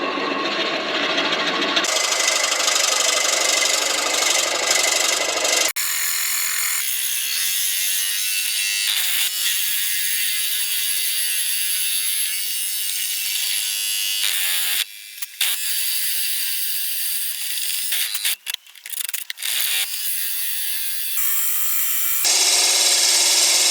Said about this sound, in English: Let's see if we can get it drilled.